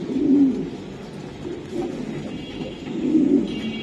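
A racing pigeon gives two low, rolling coos near at hand, one at the start and one near the end, over faint background noise.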